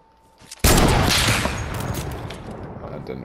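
A loud burst of gunfire in Fortnite battle royale erupts suddenly after a quiet start, sustained and dense for a second before trailing off into a fading rumble, with no talk.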